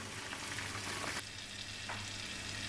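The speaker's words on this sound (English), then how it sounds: "We're just going to fry up this garlic clove until it starts to turn golden." A garlic clove frying in a pan, a steady close sizzle and crackle with a couple of brief stirring scrapes, continuous with no talk.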